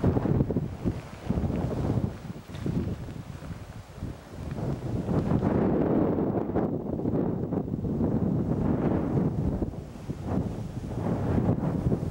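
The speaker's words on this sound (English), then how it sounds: "Way too windy." Strong wind buffets the microphone on a chilly hiking trail in the Beskid Niski mountains on the Polish-Slovak border, a continuous rumbling roar that swells and eases in gusts, with no voices.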